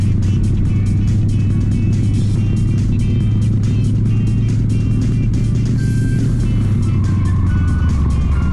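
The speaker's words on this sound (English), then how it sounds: "Driving over 150 kilometers per hour on a dirt road is unstable and makes it easy to spin out." A car in the driving game The Long Drive races over a dirt road at more than 150 km/h, with a loud, steady engine drone and rumbling road noise that run unbroken through the whole stretch.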